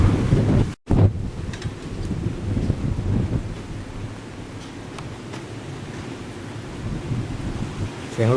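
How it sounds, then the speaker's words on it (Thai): Strong wind gusting outdoors near a station and market, a steady rumbling roar against the microphone with buffeting bursts, loud and continuous throughout. "เสียงลมดังแรงมาก"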